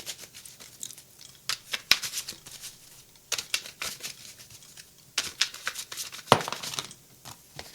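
Three mixed tarot card decks being shuffled by hand, giving close, papery riffling and flicking in rapid irregular bursts with brief pauses.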